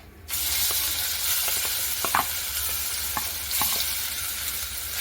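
Raw mango pulp sautéing in hot oil with asafoetida for a quick green mango chutney, a dense continuous sizzle starting abruptly, with scattered spoon clicks and stirring scrapes up close.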